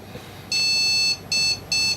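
PC motherboard sounding error beeps, loud high electronic tones up close: one long beep followed by two shorter ones, with the clip cut before the full four-beep sequence ends.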